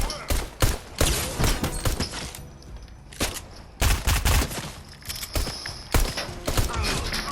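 Video game gunfire while taking out henchmen, rapid close volleys of shots in dense bursts with brief gaps, a voice speaking faintly in between.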